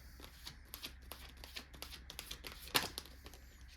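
Tarot cards shuffled by hand to draw more, soft close-up riffling and flicking in quick irregular bursts, ending with one sharper snap of cards.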